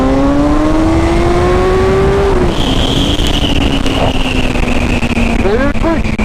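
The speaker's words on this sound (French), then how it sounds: "Je vais faire une petite accélération, regardez 5000 tours" A BMW S1000R motorcycle engine idles with a steady tone, then revs toward 5000 rpm. A loud, rising whine carries over the idle while a voice talks nearby.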